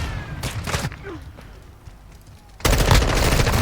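Rapid automatic gunfire from a shooting video game, loud bursts at the start, a quieter stretch of scattered shots, then a dense continuous volley that carries on to the end.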